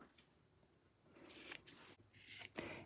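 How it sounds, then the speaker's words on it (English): Fabric scissors snip off the sewn corners of a pillowcase: a quiet pause, then a few close, crisp cutting crunches with brief gaps between them. "So now what we're going to do is cut off our corners."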